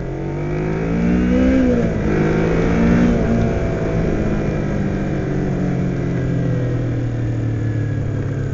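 A 2007 Kawasaki Ninja 250 motorcycle engine revs up then holds a steady high-pitched whine, loud and near, with a continuous buzzy tone and no talk.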